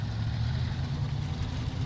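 A heavily loaded truck in SnowRunner drones with a steady low engine rumble, straining under too much weight, close and continuous with no talk.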